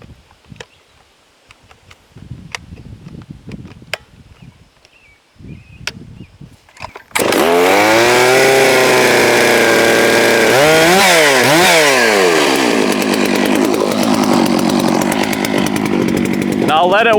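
A Neotec 892, a Stihl-clone chainsaw, set on the ground, gives a few scattered pulls and clicks before catching suddenly, then runs loud and close, revving up and down in waves before settling into a steady high roar.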